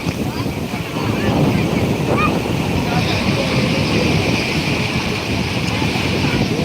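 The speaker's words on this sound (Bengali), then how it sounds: "বিভৎস বিভৎস ও আবারও ভয়াবহ ঢেউ" Rough high-tide sea waves at Digha beach roar continuously and loudly, mixed with heavy wind buffeting the microphone, while a voice speaks excitedly over the surf.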